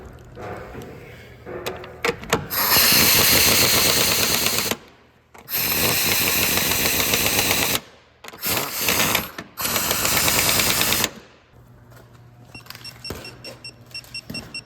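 An impact gun, turned down low, tightens the strut bolts on a 2010 Ford Focus. It fires in several loud rattling bursts of a few seconds each, separated by short pauses and quieter handling noise.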